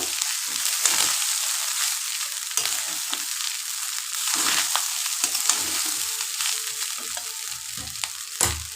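Cooked rice being stirred and fried in a pan for a South Indian style dish, with a steady bright sizzle broken by scraping stirs throughout, close and alone without any voices.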